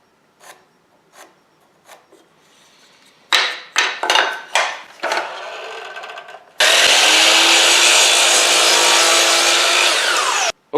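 Wooden frame pieces are sawn by hand. A few faint strokes come first, then a run of loud rhythmic rasping strokes, and finally one long sustained burst of close cutting.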